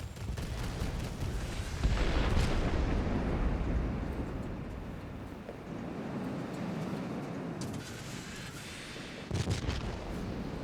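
Aircraft guns firing in the combat flight game War of Worldplanes, a dense rumbling stream of gunfire over steady engine roar, with a couple of louder bursts.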